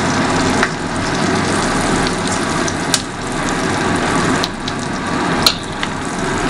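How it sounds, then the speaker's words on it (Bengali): Green chillies and five-spice seeds crackle in hot oil with a loud, steady sizzle that runs throughout, broken by a few sharp pops. "আগে থেকে আমরা তেল গরম করতে দিয়ে দিয়েছি। এবার এর মধ্যে কাঁচা লঙ্কা যাচ্ছে ফোড়নে"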